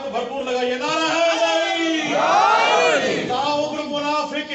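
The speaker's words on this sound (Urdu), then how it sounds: "نعرے لگا رہے ہیں تو بھرپور لگائیے" A crowd at a religious poetry recitation chants slogans together in loud, swelling unison, the group voices rising to a peak midway before falling back into sustained collective shouting.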